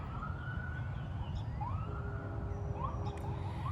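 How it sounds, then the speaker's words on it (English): Fire and ambulance sirens pass through town in the distance, wailing and sweeping up and down in pitch, faint over a steady background rumble. "you may be able to hear the sirens going"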